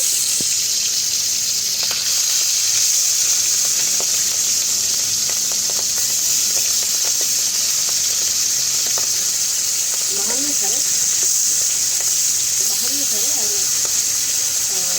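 Hilsa fish sizzles in hot oil in a pan, a steady loud hiss throughout, with brief voices heard in the background toward the end.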